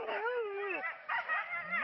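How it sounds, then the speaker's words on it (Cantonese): Sled dogs being harnessed to a sled in snowy North Bay yip, whine and howl excitedly in a continuous, wavering chorus close by. "而家佢咧喺度綁緊啲狗咧上去個雪橇準備啦，啲狗好似好開心咁樣喎"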